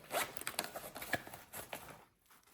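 A zipper is pulled open on a compact Fjällräven shoulder bag. It gives a quick, close, scratchy run of ratcheting teeth lasting about two seconds, then goes quiet.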